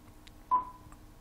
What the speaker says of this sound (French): on a un petit bip à la fin